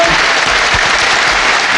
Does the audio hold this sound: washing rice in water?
no